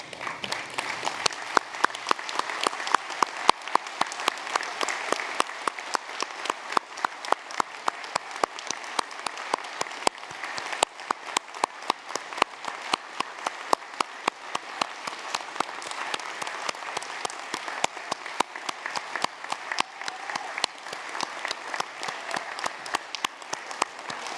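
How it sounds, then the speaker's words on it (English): A large audience at a University of Newcastle graduation ceremony in Australia applauds the graduates at length, a sustained, even roar of clapping with a faint rhythmic pulse running through it. "join me again in applauding the wonderful achievement of these graduates"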